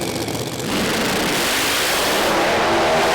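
A Pro Mod drag car at a British Drag Racing Championship round roars loudly off the start line as its tyres spin, a dense, sustained engine and tyre roar that swells and holds steady.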